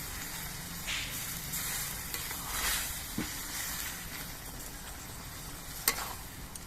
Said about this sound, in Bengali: এবার আস্তে আস্তে জাল দিয়ে সবজিগুলোকে সেদ্ধ করে নিতে হবে